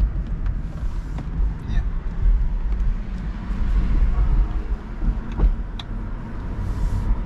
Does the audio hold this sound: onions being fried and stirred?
no